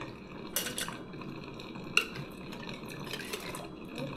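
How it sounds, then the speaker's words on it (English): Glass canning jars being filled at home, with soft clinks of glass and utensils, light scraping and dripping, and one sharper clink midway, close and quiet. "now we are going to fill our jars"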